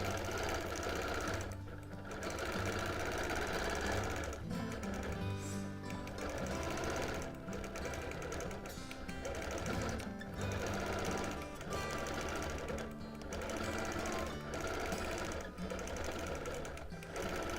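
A sewing machine stitches steadily while free-motion quilting a border of jaggedy leaves, a close, rapid mechanical hum with brief pauses and speed changes.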